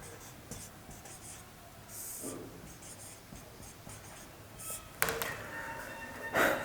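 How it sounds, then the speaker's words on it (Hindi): Chalk or marker scratches across a classroom board in short strokes with pauses between them, quiet and near, ending in a few louder taps and scrapes. "तो चलिए यहाँ लिख देते हैं"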